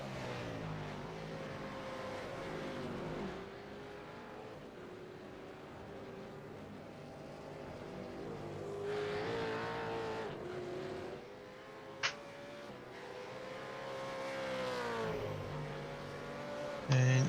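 V8 race cars in the East Coast series at the Le Mans round cross the start-finish line onto a flying lap, a layered, continuous engine roar with shifting pitch as several cars pass, fairly distant and steady.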